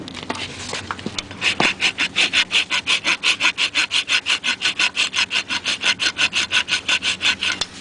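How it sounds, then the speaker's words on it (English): A rasp files a horse's hoof during barefoot trimming, starting with a few scattered knocks and then settling into steady, close back-and-forth rasping strokes of about four per second, loud and rhythmic, with no talk. "we're going to pick up this foot, and we're going to create that space with the rasp."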